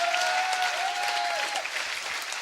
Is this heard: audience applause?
yes